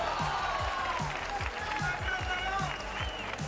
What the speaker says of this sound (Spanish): Un aplauso muy fuerte para esta